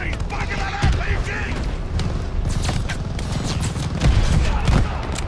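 Call of Duty Vanguard wartime battle with an RPG fired among the chaos: dense rattling gunfire and heavy booms, loud and continuous, with soldiers shouting over the din.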